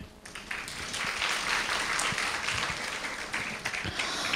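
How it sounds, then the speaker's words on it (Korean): A school audience claps steadily to welcome a middle-school student speaker, a dense sustained wash of applause lasting throughout with no talking over it. "박수로 맞이해 주세요."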